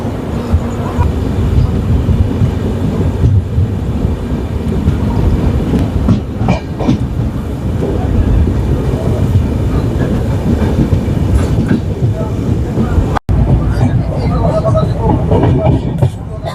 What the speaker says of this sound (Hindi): ये क्रॉस हो रहा है कामरूप एक्सप्रेस।